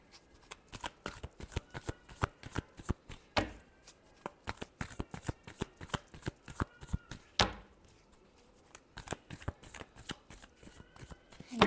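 Tarot cards shuffled by hand in a reading, a dense run of quick papery riffles and snaps with brief pauses, close and fairly loud throughout, no voice over it.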